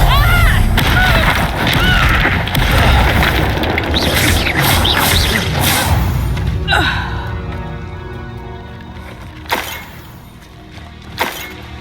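Hogwarts Legacy Confringo spell blasts burst loudly in the first half amid crackling, shattering debris, then fade into a quieter tail marked by two sharp isolated impacts near the end.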